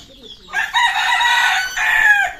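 A tiger-breed rooster crows once, loud and close, in a single drawn-out call of about two seconds that rises after a brief start and holds steady before fading.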